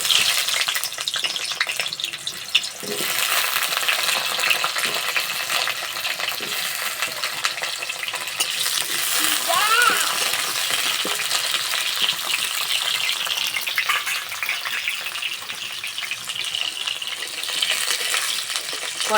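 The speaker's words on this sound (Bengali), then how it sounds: "কড়াই দেবো সর্ষের তেল। প্রথমে পটল ভেজে নেব।" Pointed gourd fries in mustard oil in a wok for a vegetarian potato and pointed gourd dish, a steady crackling sizzle running throughout with occasional light clinks and stirring scrapes.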